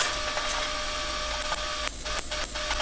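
A roll cage tube on a Ford Cortina being welded, sped up, gives a steady, dense crackling hiss that runs almost unbroken, with a few short dropouts near the end.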